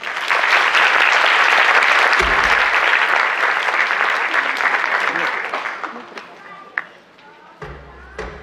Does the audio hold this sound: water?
no